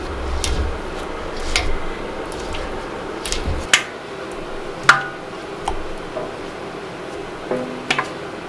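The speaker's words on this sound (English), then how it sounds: "Take my spatula and I'm going to scrape my pot to make sure I get as much batter out as possible." A spatula scrapes homemade all-natural soap batter out of a pot: soft, squishy wet scrapes with a few sharp clicks against the pot, close up, with no voices.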